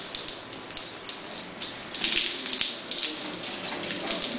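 Water from a garden hose runs steadily with a hissing splash, louder in the second half, with no talk over it.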